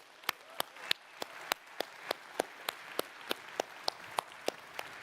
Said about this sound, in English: Big round of applause, Barcelona and friends of Xiaomi.